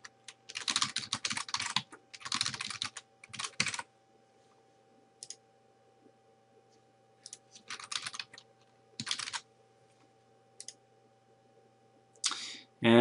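A password typed on a computer keyboard comes through as bursts of rapid, close key clicks separated by short pauses, ending with a few louder taps.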